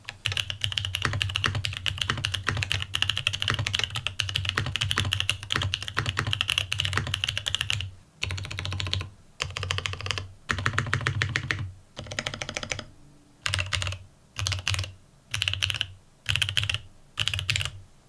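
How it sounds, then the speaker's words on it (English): Mechanical keyboard with a stiff carbon fiber plate, isolated top mount and Durock Koala switches, typed in a long continuous run of loud clacky keystrokes, then in short rhythmic bursts separated by brief pauses, close and alone. "Between the stiff carbon fiber plate, isolated top mount, and Duroc Koala switches, I expect the sound signature to be much louder and higher pitched"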